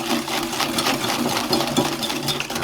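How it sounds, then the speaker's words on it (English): Whisking a slurry by hand for a coconut cream pie, a steady rapid scraping and clicking of the whisk against the bowl, close and continuous without pause. "Until this is all whisked and there's no lumps."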